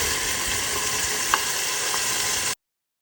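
Masala paste of coriander, mint, dried coconut and onion fries in oil for a Rayalaseema chicken curry, giving a steady loud sizzle with one brief clink of stirring before it cuts off.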